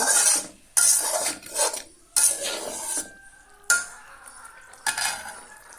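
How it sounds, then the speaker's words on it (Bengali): Fried shing fish is turned through masala in a pan, with repeated bursts of close scraping and stirring over a soft sizzle, several distinct strokes separated by short quieter gaps, and no talking. "ভেজে রাখা মাছটা আমি দিয়ে মশলার সাথে একটু নাড়িয়ে চাড়িয়ে নেব"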